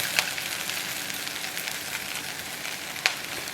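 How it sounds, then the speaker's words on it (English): Onions browning in a frying pan give off a steady, soft sizzle with faint crackles and a couple of sharper pops, close by and without talk. "So here you can see these onions are starting to brown a bit."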